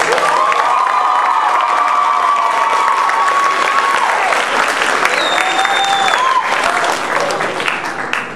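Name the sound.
audience applause and cheering after a poem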